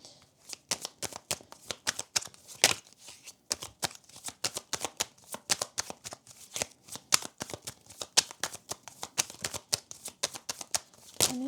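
Tarot reading cards shuffled in quick bursts of crisp riffling clicks, close and fairly loud, running steadily with brief pauses and no talking.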